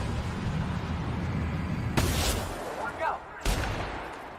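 Gunfire from the video game The Outer Worlds: a few sharp shots ring out over a dense rumbling game soundscape, moderately loud and spaced a second or so apart.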